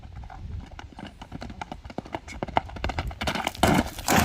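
A racing horse's hooves clip-clop in a steady, fast rhythm close by, growing louder and denser toward the end, with faint background voices.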